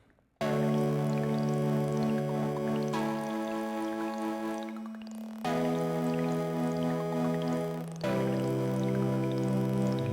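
A crispy drip texture from the Evolve elastic sample-based synthesizer by Excite Audio: sustained, bright, layered tones with sweeping resonant whistles, retriggered four times in a steady sequence, loud and with no voices.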